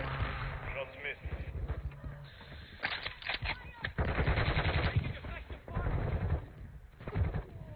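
Rapid gunfire in a shooter video game, bursts of sharp shots crackling in quick rhythmic volleys, loud and close, with players talking over the action.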